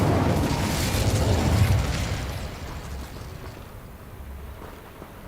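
The Incendio fire spell in Hogwarts Legacy bursts with a loud whooshing blast that peaks early, then fades into a softer crackling tail, with no voices.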